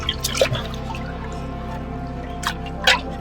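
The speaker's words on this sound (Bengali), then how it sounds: "এইগুলো এবার ধুয়ে ধুয়ে পরিষ্কার করে নেবো" Freshly dug yams with soil still clinging are rinsed in water outdoors, producing close, intermittent drips and splashes over a low steady background; no speech.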